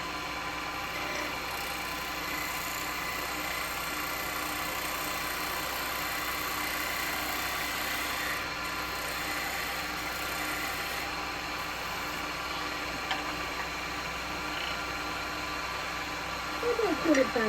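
A wood lathe spinning a monkey puzzle bowl blank holds a steady, even motor hum for the whole stretch, close and constant, with a short burst of scraping or chirping near the end.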